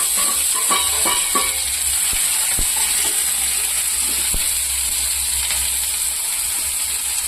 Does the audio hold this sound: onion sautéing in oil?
yes